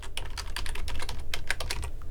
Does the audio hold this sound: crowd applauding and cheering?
no